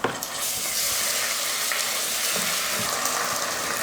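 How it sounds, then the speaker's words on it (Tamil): Ginger garlic paste sizzles and fries in hot oil with sautéed onions and chillies, a steady close, dense hiss with faint stirring scrapes throughout. "இப்போ இதில் இஞ்சி பூண்டு பேஸ்ட்டு சேர்த்துக்கலாம்."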